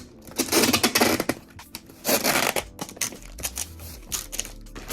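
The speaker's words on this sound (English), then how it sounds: "So then I tape the box all up, of course." Packing tape is pulled and pressed down to seal a shipping box, giving a series of loud, close ripping and crackling bursts separated by short pauses, with a low thud near the end.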